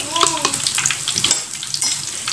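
A pan of food bubbles and sizzles after soaking water is poured in, with light scraping stirs and a faint squeak near the start, steady and close by without speech.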